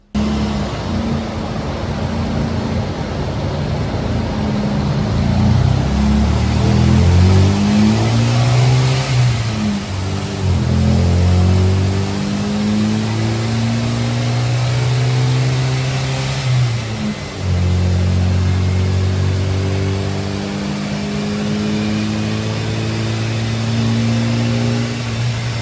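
Ford Escort strapped to a dyno, its engine revving repeatedly, rising and falling in long loud pulls with a steady drone between them.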